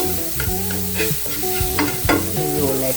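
Onions fry with turmeric in a pan, a steady close sizzle with occasional utensil stirs and scrapes cutting through the constant crackle.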